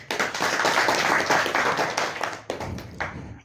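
An audience at a gathering claps for a guest, a close, lively round of hand clapping that swells, dips briefly and picks up again before tapering off.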